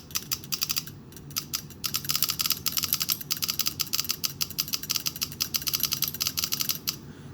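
An Empire Axle 2.0 paintball marker's trigger is pulled repeatedly while the marker is not activated, giving quiet, rapid mechanical clicks in quick irregular runs, close and alone.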